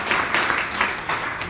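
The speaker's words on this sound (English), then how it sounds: "Give Franco a round of applause." An audience in a room at Franco's Little Italy gives a short, steady round of applause, moderately close and unbroken, with no talking over it.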